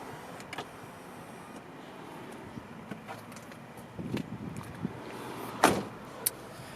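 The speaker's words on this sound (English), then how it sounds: "Power front seat, works just fine" Power front seat motor in a 1995 Mitsubishi Pajero Exceed-II, a low electric whir running near and quiet, ending with a brief louder burst as the seat reaches its stop.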